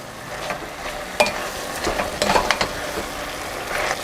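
Kimchi and pork stir-fried together in a pot for pork kimchi stew, with soft sizzling and intermittent scraping and stirring clatter close by, no talk.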